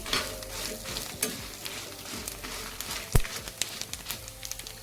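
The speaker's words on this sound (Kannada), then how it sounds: "ನಂತರ ಮೆಣಸನ್ನು ಅದಕ್ಕೆ ಹಾಕಿ ಅದೇ ಎಣ್ಣೆಯಲ್ಲಿ ಫ್ರೈ ಮಾಡ್ತಾ ಇದ್ದೇನೆ" Chillies frying in hot oil in a pan, a soft continuous sizzle broken by irregular clacks and scrapes of stirring, with one sharp knock partway through.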